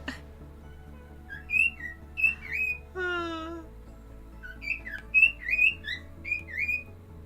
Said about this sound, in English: the birds are singing louder now that I've put them to bed